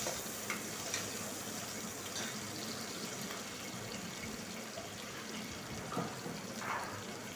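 Chopped onion and green chili sauté in hot oil in a pan while cooking coconut milk pulao, giving a steady, continuous sizzle with occasional stirring scrapes, close and moderately quiet, with no talking.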